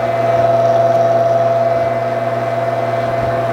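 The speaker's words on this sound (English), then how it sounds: "Pork's going for its final grind." A meat grinder with a new plate fitted runs its final grind of cold pork, a steady close motor drone with a constant hum and a faint whine, with no voices.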